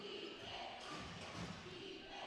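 Steady roar of a basketball crowd at a men's QBL grand final between the Brisbane Capitals and Cairns Marlins, a continuous dense wash of voices at even loudness throughout with a few thuds inside it.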